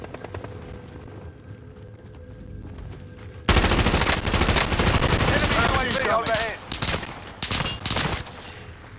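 Gunfire in the battle royale video game Warzone: after a few quiet seconds, loud, sustained, rapid automatic fire breaks out and keeps going in dense bursts, with voices mixed in.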